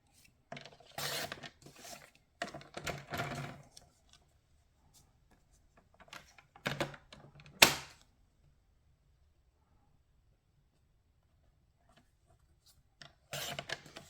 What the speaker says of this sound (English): I'm just going to trim this down a bit.